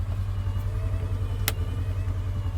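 A Polaris Ranger fitted with a Boss plow drives off asphalt onto gravel, giving a steady, close, continuous engine drone with heavy low rumble and one brief sharp click or knock partway through.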